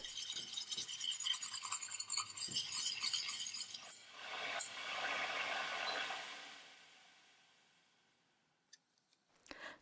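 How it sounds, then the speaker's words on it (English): Sushi vinegar with sugar is stirred until it dissolves, producing brisk scraping and clinking for a few seconds before it fades to a soft hiss and a few faint clicks, with no talking. "Stir until all the sugar is dissolved."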